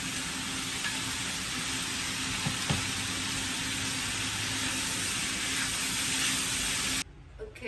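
Chopped green onion and onion sizzle in hot oil in a pan for a Cambodian yellow rice pancake recipe, a loud, steady hiss running continuously before cutting off abruptly near the end.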